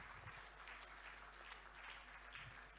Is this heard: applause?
yes